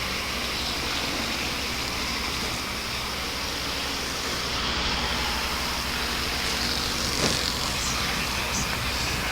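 Sportsman race cars lapping the Waterford Speedbowl oval during a 50-lap finale, a continuous distant engine roar blended with broad crowd and track noise, steady in level throughout.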